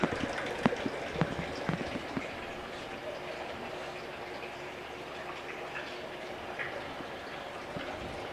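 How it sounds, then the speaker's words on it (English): Water gurgles and splashes steadily from a 2013 Suzuki 90hp four-stroke outboard motor pumping water while running in a test tank, a moderate continuous wash with a few sharper splashes early on. "Pumping good water."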